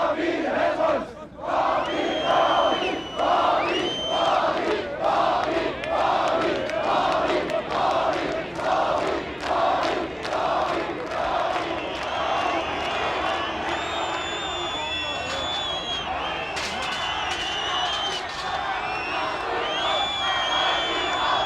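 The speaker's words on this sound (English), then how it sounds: "a hostile crowd was gathering outside" A hostile crowd gathers outside in 1989 East Germany, a large mass of voices shouting and chanting in loud rhythmic bursts, roughly once a second, with whistles and cries over a constant roar.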